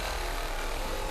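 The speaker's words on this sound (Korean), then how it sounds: "울퉁불퉁하게 굳은 표면을 매끄럽게 다듬어 마감재 붙일 준비를 합니다." A hand tool rasps over hardened spray foam insulation inside a container house, making a continuous, close, coarse scraping hiss with no pauses.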